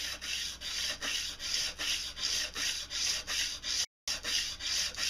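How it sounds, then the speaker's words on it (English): Hand sanding oil-baked scale off an antique cleaver: a close, rhythmic back-and-forth rasping of sandpaper on metal, about two strokes per second, steady and fairly quiet, with one brief pause. "Here we go, starting to hand sand,"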